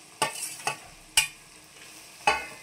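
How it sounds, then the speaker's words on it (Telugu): Amaranth stems dropped into hot oil with browned onion pieces, a soft background sizzle punctuated by four sharp clattering stir strokes against the pan. "ఈ తోటకూర కాళ్ళము వేసేసుకుందాము."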